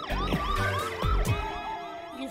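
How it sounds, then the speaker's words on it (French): A cartoon siren wails in rapid rising and falling sweeps, loud and close, in a French-dubbed animated show about motorbikes. "j'ai entendu, j'ai compris, il y a une sirène"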